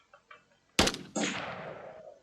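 Gunfire in a GTA-style game built in Unreal: a single sharp, loud shot, then a second burst that rings out and decays over about a second, preceded by faint small clicks.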